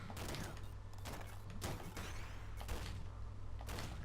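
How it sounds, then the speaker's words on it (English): Shotgun blasts from the video game Downwell, several loud bursts a second or so apart over a constant low game hum and music. "Now that's the power of the shotgun."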